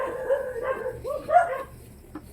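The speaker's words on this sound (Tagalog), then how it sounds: "Bakit ang ingay-ingay nitong mga aso na to?" Dogs bark and yip in quick, uneven bursts with some whimpering, fairly close, over a faint low hum.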